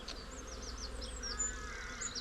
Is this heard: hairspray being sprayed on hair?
no